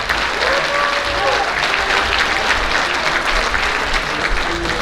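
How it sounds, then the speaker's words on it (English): Audience applause at a school district teachers of the year ceremony, a steady, dense wash of clapping with cheering voices mixed in, sustained and fairly loud throughout. "Let's give a big round of applause to Mr. James and the school board for making this happen."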